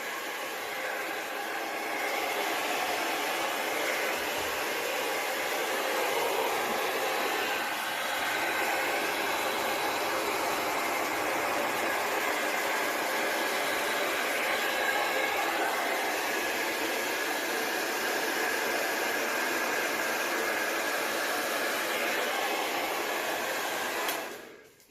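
A hairdryer blows steadily and loudly up close over an acrylic pour painting, a continuous broadband whoosh that runs unbroken for the whole stretch before cutting off at the end.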